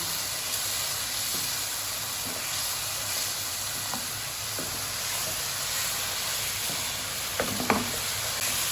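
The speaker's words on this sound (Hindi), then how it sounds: "इनको अच्छी तरह से हमने मसालों को भूनना है इसमें" Spices, including cumin, being roasted in hot oil for a meat and okra curry, a constant soft sizzling hiss with occasional faint stirring clicks, steady and unbroken, no voices.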